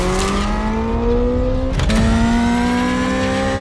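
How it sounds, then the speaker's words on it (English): An artificial engine tone from a car's sound synthesizer, like a Hyundai Ioniq 5 N's, climbs steadily in pitch, briefly dips as if shifting gear, then keeps rising, loud and continuous. "it's actually just a sound synthesizer like the one you get in a Hyundai Ioniq 5N"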